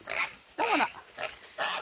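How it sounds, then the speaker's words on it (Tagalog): A pig loaded in the back of a Toyota Hilux pickup squeals and grunts in four loud, close bursts separated by short pauses. "Nya kay baboy among gikarga sa Hilux."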